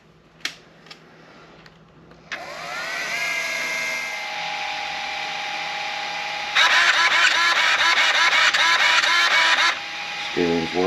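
A Traxxas X-Maxx 8S RC truck drivetrain spun up after its gears were shimmed, a few clicks, then a rising electric whine that steadies and later turns into a louder rattling gear buzz, close up.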